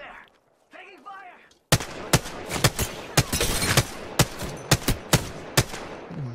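Gunfire erupts in a battle royale firefight: sharp, loud cracks and bursts of shots ring out repeatedly in uneven rhythm over a few seconds, after brief quiet chatter at the start.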